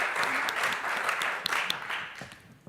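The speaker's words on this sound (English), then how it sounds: "So if we could have an applause for our panelists for this session, please." Audience applause for conference panelists at a European data summit, a steady wash of clapping from a room that tapers off toward the end.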